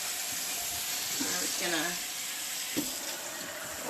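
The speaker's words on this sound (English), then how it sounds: "So, take my handy dandy sprayer." Handheld sink sprayer rinsing a tie-dyed shirt, a steady hissing spray of water filling the whole moment at moderate loudness, with a person speaking briefly over it.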